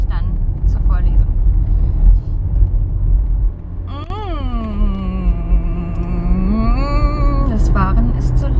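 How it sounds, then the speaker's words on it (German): Car interior driving noise, a steady loud low rumble throughout, with a voice speaking over it for several seconds. "Das Fahren ist zu laut"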